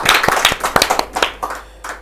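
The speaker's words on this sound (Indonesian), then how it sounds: "Tepuk tangan dong." An audience claps, giving a short, close burst of brisk hand claps that thins out toward the end.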